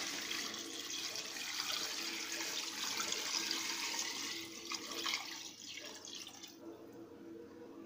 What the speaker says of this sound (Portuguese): Agora eu vou botar aqui a água.